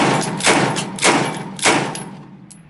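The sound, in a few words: gunshots from a CF-W A Bolt rifle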